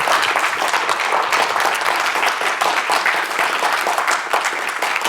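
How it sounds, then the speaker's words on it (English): Audience at an open-source conference giving a sustained round of applause, dense and steady clapping from many people filling the whole stretch at close range. "Round of applause now, I think, for the volunteers."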